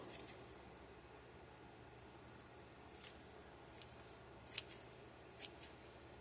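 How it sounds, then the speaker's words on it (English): Faint, sparse snips of scissors cutting, a handful of short crisp clicks scattered irregularly over a quiet background. "My scissors are getting a little weak."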